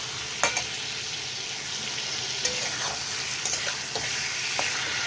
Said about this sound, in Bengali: আলু আর লাউটা এর মধ্যে দিয়ে ভালো করে আমি নেড়েচিয়ে নেবো